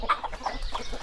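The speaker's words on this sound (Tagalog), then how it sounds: "Ang laki ng tandang na yan oh." Backyard chickens and a large rooster on a New Zealand property clucking in a steady run of short calls, fairly close and continuous with no talk over them.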